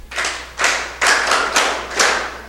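A school quiz show audience claps for a team in five short bursts, each a loud, close burst of clapping that fades quickly before the next.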